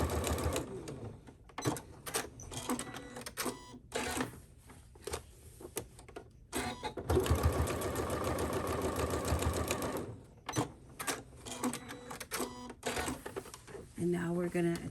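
A sewing machine bastes down the raw edges of a strap in short, rapid stitching bursts separated by pauses, close and clear, with a person talking intermittently between runs.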